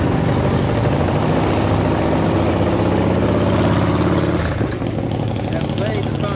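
Several motorcycle engines idling nearby, a loud steady low rumble that fills the whole stretch with a slight dip near the end, with a voice talking over it.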